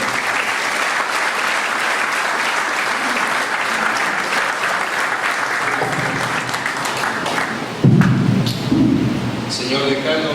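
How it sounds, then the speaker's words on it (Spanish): A lawyers' association audience at a conference in Lambayeque claps for Dr. César Nakazaki, sustained and loud. The applause swells briefly near the end, with a few thuds and some crowd noise mixed in. "Fuerte las palmas para el doctor César Nakazaki."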